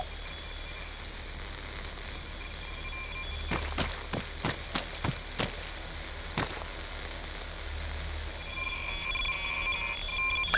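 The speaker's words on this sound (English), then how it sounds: "You ought to get a confirmation beep." An Arma 3 signal scanner in the game gives a string of about eight short, sharp electronic beeps in a loose quick rhythm, standing out clearly over a steady rain-like ambient hiss, with no talking.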